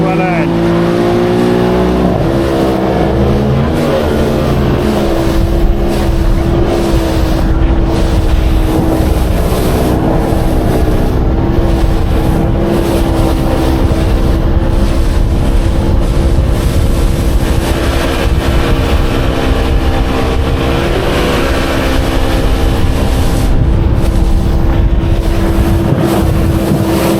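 Loud, steady drone of a rigid inflatable boat's outboard engine throttling up on the water near Felixstowe Ferry, rising in pitch early on with constant wind and hull rush; a voice talks over it.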